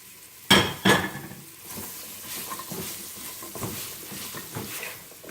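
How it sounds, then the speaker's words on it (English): Onions and carrots for chicken curry are stirred in a frying pot. Two sharp utensil clinks open the sound, then soft scraping and quiet sizzling follow, with no talking. "And you stir this around for maybe 5 minutes."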